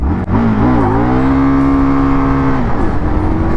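An Indian Scout Sport Bobber motorcycle engine revs up loudly and steadily from a slow roll with the clutch in, its pitch climbing then holding high before dropping off near the end, with no voices present.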